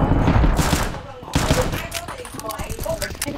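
Rapid bursts of automatic gunfire crackle through a Counter-Strike match on de_Anubis, several volleys close and loud, with players' voices talking over the shooting.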